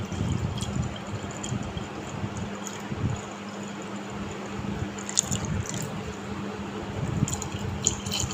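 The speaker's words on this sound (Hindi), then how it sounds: "ठंडा पानी इसके अंदर आप डालिएगा।" Cold water being poured into an apple mixture, a steady close splashing and trickling that runs throughout with a few louder drips.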